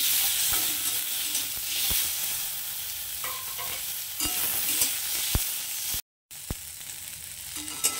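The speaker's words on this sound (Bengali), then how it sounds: "তো এটাকে একটু হালকা ভেজে নেবো এখন।" Coconut and tomato masala for a South Indian fish curry sizzles steadily in a pan while a utensil stirs and scrapes in sharp clicks, close and fairly loud; near the end it cuts out briefly, then resumes.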